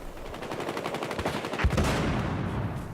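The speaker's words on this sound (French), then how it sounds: "Ça snipe là-bas." Sniper and machine gun fire in the multiplayer shooter Battlefield Hardline, dense rapid bursts of automatic shots with a louder crack near the middle, fairly loud with no talking.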